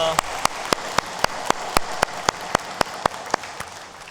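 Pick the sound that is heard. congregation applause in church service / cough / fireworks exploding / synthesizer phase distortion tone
congregation applause in church service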